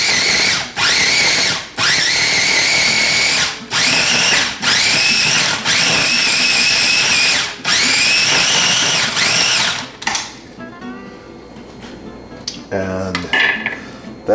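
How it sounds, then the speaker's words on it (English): A food processor blends a strawberry salad dressing in loud, close bursts. Roughly eight pulses of whirring are divided by short gaps, and then some quieter clinking and handling follow at the end. "So you put it all in the food processor,"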